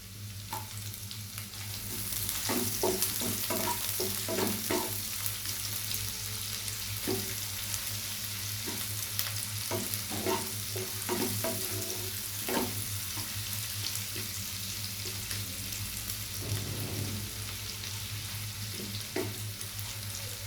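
Chopped onion fries in a pan with a steady, close sizzle, and spatula scrapes and stirs tick through it at irregular intervals, while a low hum runs underneath.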